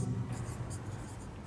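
Pen or marker scratches across a board or paper as a physics flux equation is written out during a class lesson, a faint continuous scribble with small strokes over a low background hum.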